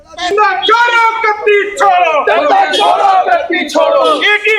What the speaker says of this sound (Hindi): लखनऊ में आम आदमी पार्टी प्रोटेस्ट कर रही थी।